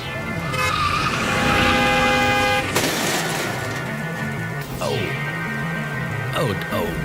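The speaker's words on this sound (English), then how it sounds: "you got hit by a car" Car crash sound effect of a vehicle striking a person: a loud, continuous burst of engine and tire noise with a sharp impact hit partway through, tonal honks and squeals, then traffic rumble with short swooping screeches.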